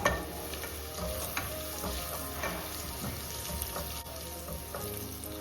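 Masala with garam masala frying in a pan while being stirred, a dense continuous sizzle with repeated scraping strokes of a spoon, fairly close and steady throughout with no talking.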